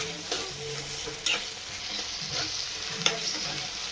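Onion, ginger paste and two chopped tomatoes sizzle in a pan while being stirred, a steady close fry broken by a few sharp scraping clicks.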